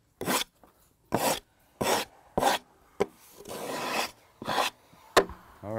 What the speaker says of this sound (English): we're just sawing off quite a few flitches here